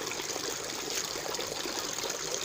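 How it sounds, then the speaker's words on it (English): Water flowing steadily through a flow-through fish tank system, a continuous close hiss and trickle of running water with no pauses and no voices. "As water is coming in, the water is going out."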